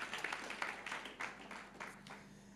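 A church congregation applauds during a sermon, a soft, fairly distant patter of many clapping hands in an uneven, rippling wash.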